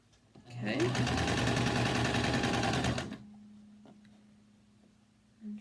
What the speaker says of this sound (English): Make sure you don't sew over top of your pins.